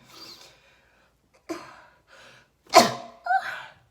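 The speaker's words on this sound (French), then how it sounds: "Attendez, j'ai envie d'éternuer." A few soft breaths and sniffs build up before one sharp, loud sneeze, followed by a short breathy exhale.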